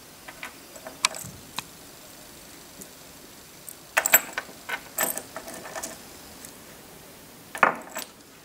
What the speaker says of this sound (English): So I'll grab the screws, just like I did with the linear guides. And I'll insert them into the T-nuts